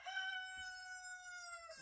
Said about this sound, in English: You can't get away from their constant crowing.